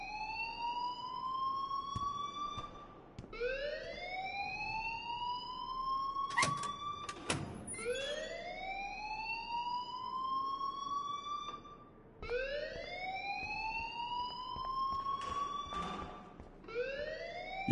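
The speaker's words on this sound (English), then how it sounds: "please turn off that alarm since that's your job" An alarm rings in the game Life is Strange Remastered, a rising, whooping siren-like tone repeated in long cycles, with a few brief clattering knocks in between.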